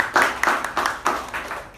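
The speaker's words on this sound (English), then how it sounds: "can I have huge round of applause for all the role takers." Short bursts of clapping from a small audience at a Toastmasters club meeting, honoring the role takers; uneven and moderately near, fading out over a couple of seconds.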